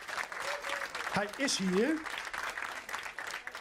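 Audience applause at a Dutch festival event, a steady crowd clapping throughout, with someone speaking briefly over it.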